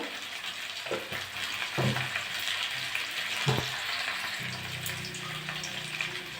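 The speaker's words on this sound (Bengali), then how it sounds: "ভালো করে কষে নেব।" Spiced fish and taro sauté in a pan for a Bengali mourola fish and gati kochu curry, giving a steady close sizzle with a few sharp stirring scrapes, and the frying grows heavier near the end.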